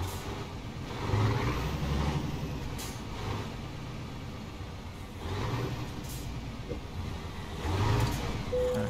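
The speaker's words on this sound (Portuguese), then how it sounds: "E o ronco da Scania, então, será que tá top?" A Scania truck engine in Euro Truck Simulator with Brazilian mods, a steady low rumble with swelling revs and occasional hiss-like bursts, heard alone at moderate loudness.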